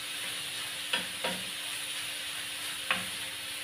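Ground pork fries in a pan with a steady, even sizzle, broken by three short spatula scrapes.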